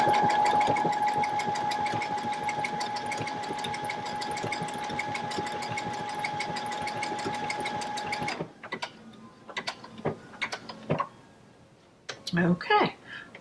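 A Baby Lock sewing machine stitching steadily with a fast, even mechanical whir and tick for about eight seconds, then stopping, followed by a few scattered clicks and handling noises and brief speech.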